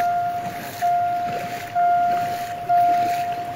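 Floodwater from Chiang Mai rushing strongly alongside a railway line, a steady broad roar of flowing water with wind buffeting the microphone and a faint intermittent tone over it.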